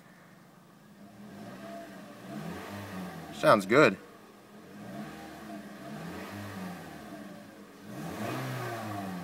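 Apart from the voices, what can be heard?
car engine revving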